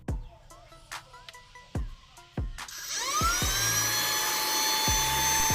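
A Portronics Mopcop 4 car vacuum cleaner and blower switches on after a few clicks of the power button, its motor spinning up into a steady high-pitched whine that holds close and loud.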